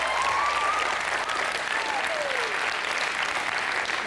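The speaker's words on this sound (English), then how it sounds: "Let's give them a big round of applause." An audience at a high school band event applauds the band staff, a sustained, even roar of clapping from a large crowd with a faint whistle or two rising over it.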